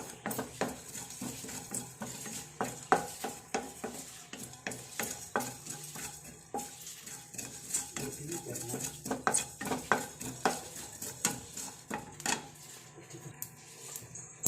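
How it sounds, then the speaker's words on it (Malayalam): Cloves, fennel and cumin seeds roast and crackle in a pan, with steady faint sizzling, frequent small pops and repeated scrapes of a stirring spoon, close and fairly quiet. "ജീരകമൊക്കെ പൊട്ടിത്തുടങ്ങി"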